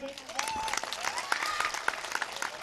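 Vigorous clapping from a large crowd at an outdoor mushaira poetry gathering, sharp overlapping claps with whistles and shouts riding on top, loud and sustained.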